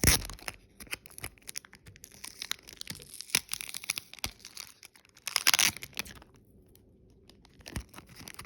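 Packaging on a Japanese import of the game Sea of Stars being carefully torn open, a run of crinkling, tearing and crackling plastic and paper, close and fairly quiet, with bursts of louder crumpling between pauses.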